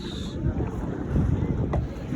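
Gusty wind at Mahamaya Lake buffets the microphone with a low, uneven rumble that swells and eases over a couple of seconds.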